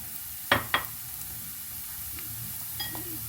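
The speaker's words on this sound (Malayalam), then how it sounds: "അതിലേക്ക് നമ്മൾ ഇറച്ചി വറുത്ത് വെച്ചിരിക്കുന്നത് ഇടുക" Fried chicken pieces drop into a hot pan for chicken semiya upma, giving two sharp close sizzling bursts followed by a low steady fry with faint stirring clinks.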